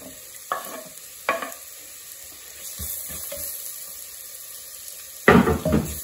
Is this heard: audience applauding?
no